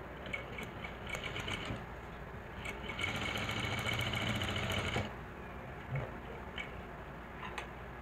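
A sewing machine stitches the neck onto a blouse, running quietly and steadily with a denser stretch in the middle, then slowing to a few separate ticks and clicks near the end, with no voices.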